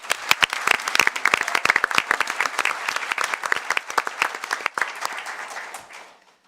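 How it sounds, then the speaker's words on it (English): At a Cary town council meeting, the room applauds town staff with loud, sustained clapping from many hands that fades away after about six seconds. "So how about everybody give a round of applause to town staff?"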